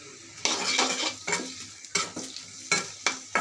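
Potatoes and dried shrimp frying in oil in a pan, a steady sizzle broken by repeated clattering scrapes of a spatula against the pan, close and fairly loud, with no talking.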